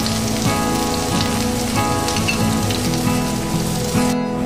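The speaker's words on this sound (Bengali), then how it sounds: "আর এবার ওই গরম তেলের মধ্যে আমি দিয়ে দেবো এখানে পেঁয়াজ কুচি" Chopped onions are dropped into hot mustard oil in a wok and sizzle with a dense, steady crackling hiss that continues evenly throughout, loud and close.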